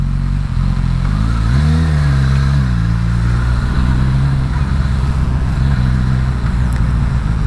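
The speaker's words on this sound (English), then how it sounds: "I think this 4-cylinder engine is sweet as a nut" A Suzuki Katana four-cylinder motorcycle rides through traffic, its engine droning loud and steady with a brief rev rising and falling, plus constant wind rush.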